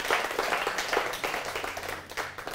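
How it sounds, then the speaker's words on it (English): Church congregation clapping during a sermon, a dense, lively burst of applause filling the room steadily throughout, with no speech over it. "come on, clap for Jesus"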